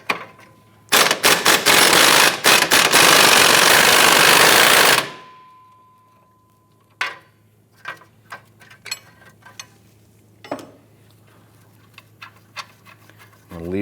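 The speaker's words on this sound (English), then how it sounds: "Go ahead and loosen that bolt." A 21 mm bolt on the rear CV axle of a 2008-2013 Nissan Rogue is loosened with socket and wrench: a loud, rapid rattling burst for about four seconds, then scattered metallic clicks and clanks of the tools.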